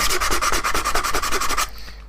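Sandpaper rubs against the wooden false keel of a model ship in quick, even back-and-forth strokes, close and loud, about a dozen rasping passes before stopping abruptly.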